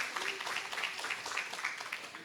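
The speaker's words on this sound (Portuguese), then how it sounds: "Palmas para o Caio." An audience applauds a guest being called to the stage at a community technology debate, soft and fairly distant, with a steady patter of clapping and some crowd voices.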